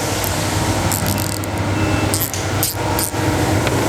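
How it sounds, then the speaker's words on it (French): A Karcher pressure washer cleans a car in a workshop, giving a steady broadband hiss and spray noise throughout, with a few brief clanks and clicks over it. "Donc le bruit que vous entendez c'est le Karcher."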